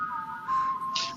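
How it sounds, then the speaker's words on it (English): A clear, breathy melodic whistle from a song, a short phrase of sustained tones with a brighter rising note near the end, heard alone. "This raw whistling sound."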